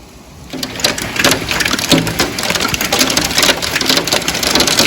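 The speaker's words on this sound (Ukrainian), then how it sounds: "в нас сильна злива почалася" Heavy rain pours down steadily outside a home window during a stormy day of rain and hail, a dense, continuous hiss that swells after a quiet start and stays loud throughout.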